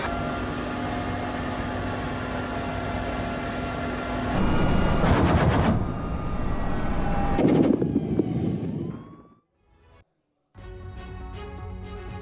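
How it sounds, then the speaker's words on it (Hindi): Russian helicopter bombardment with gunfire during fighting against Ukrainian forces: a loud, continuous aircraft engine drone with heavy rumbling blasts and bursts of firing, a sudden near-silent gap, then the roar resumes. "हेलीकॉप्टर से रूस की भीषण बमबारी।"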